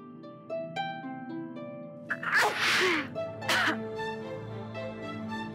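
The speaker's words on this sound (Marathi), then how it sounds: "एवढ्या शिंका यायल्यात" Two sharp, breathy sneezes burst out close together in a Marathi TV serial scene, the first longer and the second brief, standing out over a soft tonal background.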